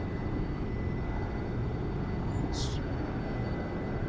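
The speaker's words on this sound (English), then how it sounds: "Let's fire it up and get those burners running." A jet with afterburners lit powers up for takeoff in the X-Plane 11 flight simulator, producing a constant heavy roar with a short high chirp partway through.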